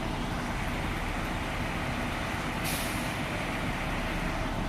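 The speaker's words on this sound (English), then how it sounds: "So we got the pumper trucks." Fire department pumper trucks run at a fire scene at a youth jail construction site parking lot, a steady, loud engine rumble and broadband roar with a brief hissing burst partway through.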